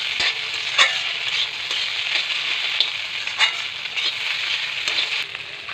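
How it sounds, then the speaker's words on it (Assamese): Mixed vegetables stir-fry in a pan over a raised gas-stove flame, giving a constant bright sizzle with periodic scraping stirs, close and without voices. "এতিয়া অলপ গেছটোৰ ফ্লেমটো বঢ়াই দি আমি ভাজিখিনি লাৰি দিম"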